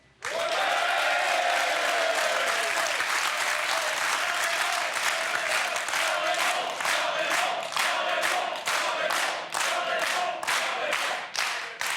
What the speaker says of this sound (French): Nous applaudissons le retour de Jean-Raymond